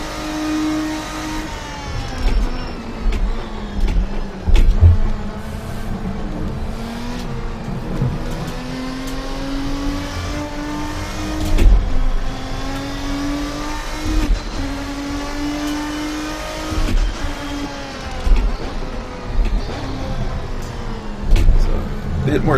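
A race car in Assetto Corsa lapping a circuit, its engine revving up through the gears and dropping on downshifts in repeated cycles, loud and constant, with someone talking intermittently over it.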